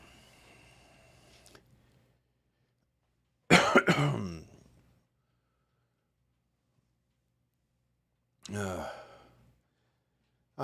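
Two separate coughs, close and sharp, several seconds apart with silence between; a faint tone fades out early.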